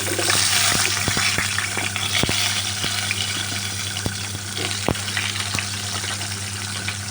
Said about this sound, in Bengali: এবার আমি কড়াইয়ের মধ্যে আলুগুলো দেব আলুগুলো ভাজার জন্য